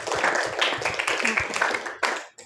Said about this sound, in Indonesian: Beri tepuk tangan dulu buat Indah.